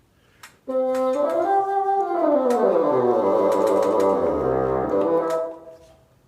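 A bassoon plays a sustained phrase, swooping up and then gliding down into deep, buzzy low notes, with a few faint clicks.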